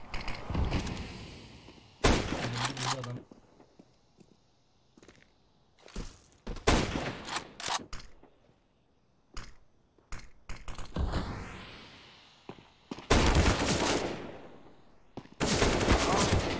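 Gunfire in the video game CS:GO, arriving as several sharp loud bursts and volleys separated by quieter gaps, with someone speaking between some of the shots.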